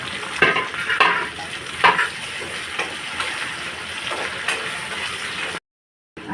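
Finely chopped tomato drops into a frying pan of green chili paste and leaves, setting off a steady broadband sizzle with a few sharper stirring bursts, close and fairly loud, before a brief cut to silence near the end.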